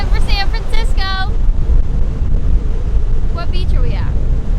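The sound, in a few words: strong wind at the beach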